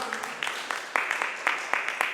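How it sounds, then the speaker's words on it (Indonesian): A church congregation at a Sunday service claps in a short burst, several sharp claps over about two seconds, fairly close and loud, with a voice mixed in. "Tepuk tangan sekali untuk Tuhan."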